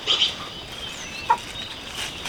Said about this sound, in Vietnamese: Đây là gà đôi.